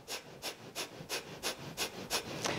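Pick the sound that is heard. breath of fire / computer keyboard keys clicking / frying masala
breath of fire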